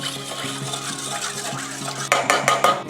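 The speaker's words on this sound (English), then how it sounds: "Let's mix that up." A spoon stirs yeast, sugar, warm milk and water in a bowl, making soft rhythmic scraping and sloshing strokes, then a few sharper clinks against the bowl near the end.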